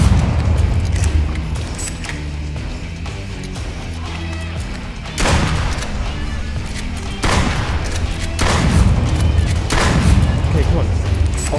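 Shotgun blasts in the VR game Duck Season on Meta Quest 3: several loud, booming shots spaced a few seconds apart over a continuous low background rumble.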